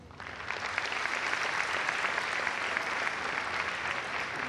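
An audience at a live stand-up comedy show at Casino Estoril breaks into sustained, dense applause that fills the room evenly for several seconds.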